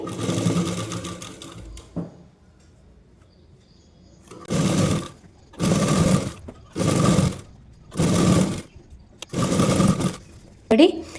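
A sewing machine stitches a six-piece petticoat in five or six short, close, loud bursts of whirring, with quiet gaps and fabric handling between them.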